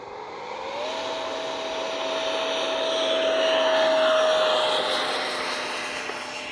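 T-33 jet on its maiden flight taking off with a little flap: a loud steady turbine whine whose pitch climbs, wrapped in a broad rushing roar that swells to a peak and then eases slightly.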